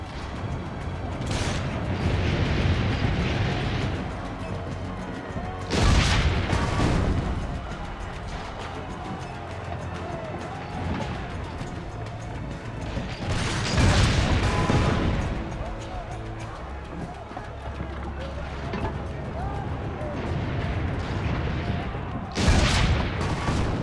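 Cannon fire in Assassin's Creed: The Ezio Collection, heavy booming blasts recurring at intervals of several seconds over a continuous din of battle noise, loud and close.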